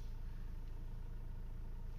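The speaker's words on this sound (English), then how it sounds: "As you see, this is the engine noise." A 2019 Tata Harrier SUV's engine idles with a low, steady hum throughout, muffled and fairly quiet, with no voices.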